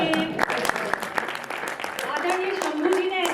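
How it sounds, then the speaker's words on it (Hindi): Audience applause at a Hindi comic poetry gathering, a kavi sammelan, a patchy clapping wash under a voice speaking over the crowd. "भजन समाप्त, तालियां बजाइए।"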